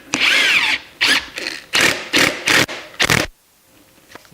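A power driver runs the ram bolt on a BeadBuster XB-455 bead breaker clamped to a tire rim, several close, loud whirring bursts in short stop-start pulses before going quiet.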